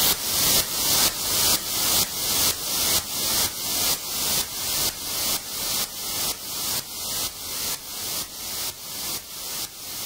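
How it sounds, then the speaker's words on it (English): Broadband white noise in an FL Studio dance track remake, pulsing in steady rhythmic swells from volume automation, each burst rising sharply then fading, repeating about twice per second throughout. "Then the kick again, and those hats, and some white noise, which has some automation on it."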